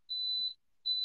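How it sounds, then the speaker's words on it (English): A Crockpot Express pressure cooker timer sounds two clear, high electronic beeps, the first long and the second starting just after a short pause, alone in an otherwise quiet kitchen. "Oh, there's the timer."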